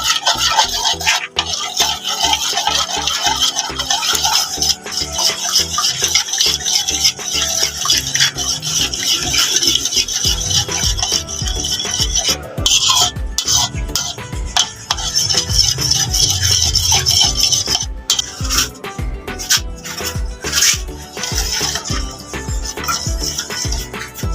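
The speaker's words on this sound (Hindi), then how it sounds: "अकॉर्डिंग ही हम सॉल्ट ले लेंगे, और अब हम इसे मिक्स कर देंगे।" Spicy green chili chaat being mixed with salt in a bowl: loud, close, rhythmic scraping and clattering of a spoon against the dish, continuing busily throughout with brief pauses and no talking.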